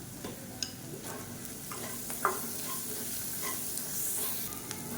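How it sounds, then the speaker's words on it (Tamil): Raw banana slices crisping in hot oil make a continuous moderate sizzle, broken by a few sharp stirring ticks and scrapes, no voices. "இந்த எண்ணெயிலே நல்லா கிறிஸ்பியாக வர அளவுக்கு இந்த வாழைக்காயை வந்து வறுத்து விட்டுக்கலாம்"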